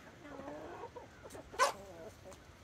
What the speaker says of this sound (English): you can fit more chickens around the pumpkin